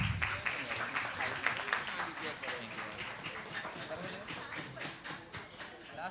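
Audience applause from delegates at a youth parliament event in Ahmedabad, a steady dense round of clapping that fills the whole stretch at moderate loudness, with a little talk mixed in.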